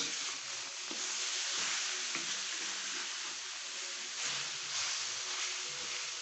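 Gajrela, Punjabi carrot halwa, stirred in a frying pan, giving a continuous soft sizzle with scraping strokes of the spoon throughout, close and steady, no voices.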